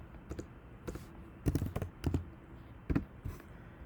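Close clatter of typing on a computer keyboard, irregular clusters of sharp key clicks with short gaps between bursts, no voices.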